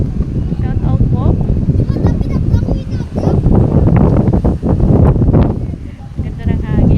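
Strong gusting wind at Sabang Boardwalk, Ilocos Sur, buffets the microphone with a steady low roar, while people talk over it throughout.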